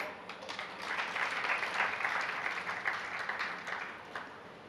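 An audience claps during a Jain religious sermon, steady applause that rises and holds for several seconds before tapering off, with no talking heard over it.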